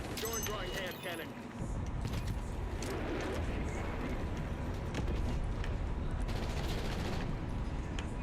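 Video game gunfire, with a napalm strike and a hand cannon in play, rattles in dense, continuous bursts and explosions throughout, loud and busy with a constant roar of battle.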